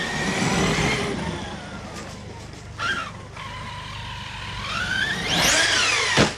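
A car engine accelerating on a road while something rubs at the rear, rising in pitch with a whining tone over steady road noise, close and fairly loud.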